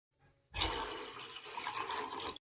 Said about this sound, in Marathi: गॅसवर पातेलं ठेवून त्यात पाणी टाकून घेऊया